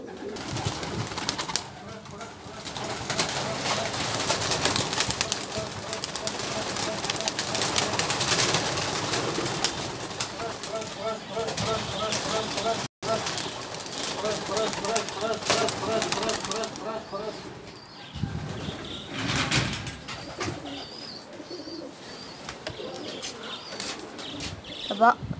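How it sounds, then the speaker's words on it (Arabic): Pigeons released and flying off: dense flapping of many wings and cooing fill the scene continuously and loudly, with people talking throughout. "دابا غادي نعطيو الحمام هادي وغادي نطلقوا الاينات"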